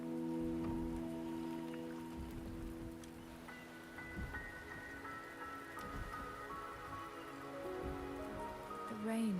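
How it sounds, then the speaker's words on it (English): Steady rain falls in the video game Wuthering Waves, a soft continuous patter on surfaces with faint drips, while a low musical drone and tones sound beneath it. "The rain is subsiding."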